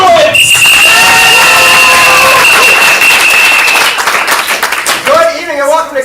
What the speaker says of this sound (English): Now give it up for your referee this evening, Andrew.